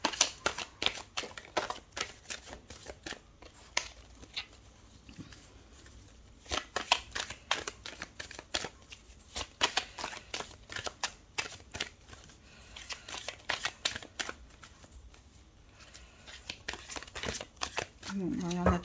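Tarot cards shuffled at length, a steady run of crisp riffling flutters and soft slaps close by, with a voice speaking quietly underneath.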